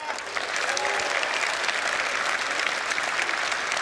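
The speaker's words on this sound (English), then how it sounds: "Everyone's clapping." Steady, full audience applause from a large crowd, loud and continuous throughout with no pauses and no speech over it.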